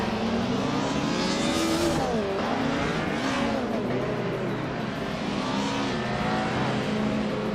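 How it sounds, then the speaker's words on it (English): A 1991 Honda Civic SIR2 in a racing video game roars loudly and continuously, its engine rising and falling through gear changes with a brief tyre squeal, no voices over it. "Cliffzone is driving a 1991 Honda Civic SIR2, a lightweight and nimble car"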